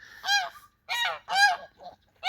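Geese honk loudly and close by in several harsh, nasal bursts with short pauses between them.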